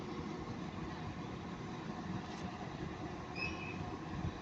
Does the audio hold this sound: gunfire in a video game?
no